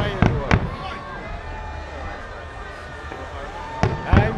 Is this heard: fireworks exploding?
yes